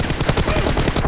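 Gunfire in a headshot-focused video game rattles off as a rapid, dense burst of loud, close shots that fill the whole short moment without pause.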